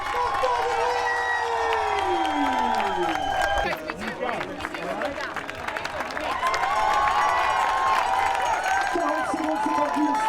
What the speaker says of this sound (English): what a wonderful crowd around us